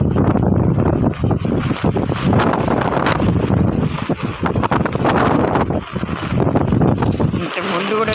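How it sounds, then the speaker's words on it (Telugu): Strong wind gusts roar loudly into the microphone during rain, buffeting in continuous waves among garden plants, with a voice talking briefly over the noise. "గాలి బాగా ఉందండి, ఎగిరిపోయేటట్లు ఉంది."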